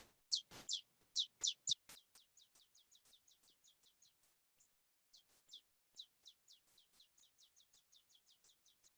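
Gulf-population bird song recording: series of high, rapid chirped notes in repeated bursts, several louder strong phrases early then softer repeated trills, clear and alone against a silent background.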